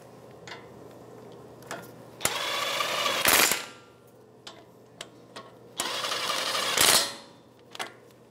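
A 12 mm socket tightens the brake caliper bolts on a Toyota 4Runner, heard as two loud bursts of rapid mechanical ratcheting separated by quieter scattered clicks and taps, close by with no talk.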